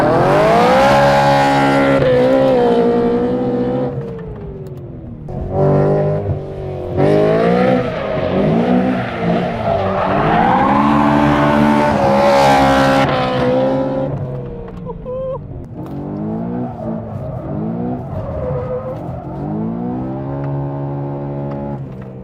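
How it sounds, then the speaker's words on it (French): A tuned BMW M3 E92 drifting, its engine screaming and revving up and down over and over while tires squeal, loud and close, with brief lulls between runs. "On va faire un peu de drift avec une M3 E92 de Shiftech."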